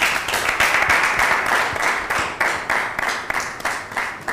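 Studio audience applause on a talk show in Cotonou, rhythmic clapping from a small group with regular pulsing beats, moderately loud and sustained for a few seconds.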